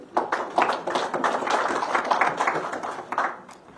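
Scattered audience clapping at a Kenyan county governance report launch, a few close-by hands patting unevenly at moderate level for a few seconds, with some murmuring underneath.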